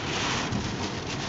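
Heavy rain pours down outdoors in a steady, dense hiss with some wind-like rumble, continuous and fairly loud throughout with no talking.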